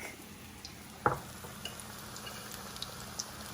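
Onion and potato frying in a pan give a faint, steady sizzle, with a single sharper clatter near the middle and a few light taps scattered after it.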